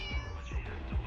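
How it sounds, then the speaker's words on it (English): A trapped kitten in the video game Zenless Zone Zero gives three short, close meows at an even pace, high and plaintive, over a faint background hum. "Oh, it's a trapped kitten."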